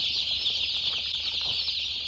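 A huge flock of day-old chicks in a commercial poultry house cheeps and clucks in a constant, dense, high-pitched chorus with a faint flutter of wings, unbroken throughout.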